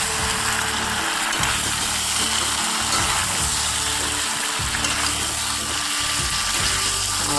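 Fried potatoes stirred into a sizzling chicken curry, a loud, constant frying hiss with rhythmic scraping and clattering strokes of the spoon against the pan.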